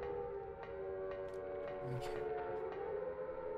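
A sustained wailing siren tone in the video game Silent Hill (PS1) drones on with faint clicks and blips over a low rumble, heard at a distance and fairly quiet.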